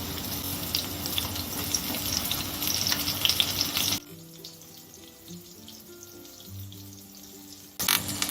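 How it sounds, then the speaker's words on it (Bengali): Stuffed pointed gourd (kakrol) with a prawn filling fries in oil over a low-to-medium gas flame, giving a steady, dense sizzle that drops to a softer, quieter crackle midway before briefly swelling again. "কাঁকড়গুলো ভাজার সময় গ্যাসের ফ্লেমটাকে লো টু মিডিয়াম করে ভেজে নিতে হবে"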